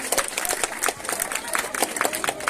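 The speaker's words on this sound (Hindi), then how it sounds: "टीम चंद्रयान के लिए जोरदार तालियां हो जाए प्लीज।" Scattered clapping from an audience at a school science exhibition, irregular and fairly sparse, with crowd murmur and voices mixed in.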